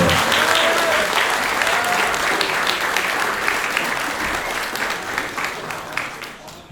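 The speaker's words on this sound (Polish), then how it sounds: "proszę, żeby brawa nie milkły, dopóki pan dyrektor nie pojawi się na scenie" Sustained, dense applause from a large audience rolls on steadily, slowly easing in loudness toward the end.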